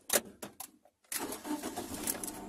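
A Nissan Sentra engine starting after a few key clicks and the crank, catching after a short pause and then settling into a steady running idle, heard at close range and fairly quietly.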